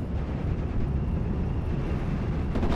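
A steady low rumble of distant artillery explosions in Steel Division: Normandy 44, a continuous booming wash with a slightly stronger swell near the end.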